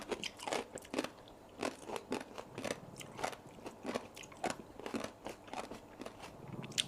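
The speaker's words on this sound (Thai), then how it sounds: "กรอบดีจังเลยเนาะ" Crisp crunching bites and chewing of a green vegetable salad, a Thai pounded salad with kong chai, close to the mic in a steady irregular rhythm of sharp crackling crunches, with no talk.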